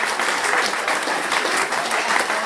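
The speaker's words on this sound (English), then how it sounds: "Can I have a round of applause for him?" Wedding guests at the Silverdale Hotel burst into loud, sustained applause, a thick crowd of clapping hands that stays strong and even throughout.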